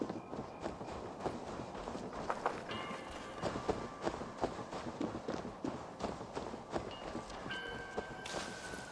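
Horse hooves clip-clop at a walking pace in Assassin's Creed Valhalla, a steady, fairly quiet rhythm of hoofbeats with faint rustling in the background and no voices.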